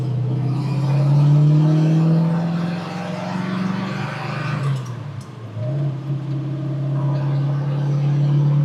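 A 1967 Ford Mustang GT engine holds a high, loud rev near 3,000 RPM for several seconds, then drops sharply and settles into a steadier lower drone.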